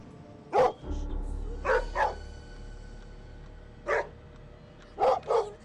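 A dog barking in the video game Schoolboy Runaway, five sharp, loud barks, one alone, then a pair, a single, and a final quick pair, over a low background hum.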